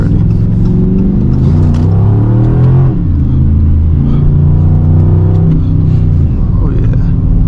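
A second-generation Dodge Charger RT AWD accelerates hard on a winter night drive, its loud engine drone climbing in pitch through the gears with a brief dip at a shift, heard from inside the cabin.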